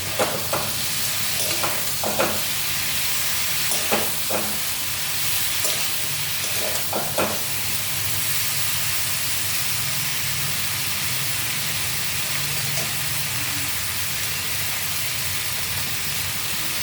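Mixed vegetables with eggplant sizzle steadily in a pan, a continuous frying hiss broken by a few scraping stirs in the first half, close and unbroken with no talk.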